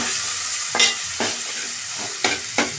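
Ginger paste and tomatoes fry in a pan while a spoon stirs them, giving a steady sizzle broken by four or five sharp scraping strokes, close up with no voices.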